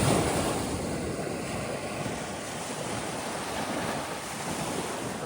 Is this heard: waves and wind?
yes